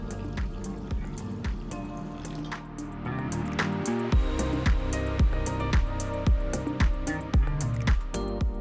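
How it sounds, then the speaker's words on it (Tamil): Water is poured into a bowl of soaking moong dal and three red chillies, giving a run of close, bright drips and gurgles that grow fuller as the vessel fills. "3 சிவப்பு மிளகாய் சேர்த்து தேவையான தண்ணியை ஊற்றி அரை மணி நேரம் ஊற வச்சுக்கலாம்"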